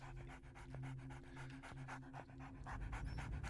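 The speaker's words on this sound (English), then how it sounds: "Oh, there's that dog." A dog pants rapidly and steadily in the Rabbit Hole video game, a close, rhythmic huffing that runs throughout over a low background hum.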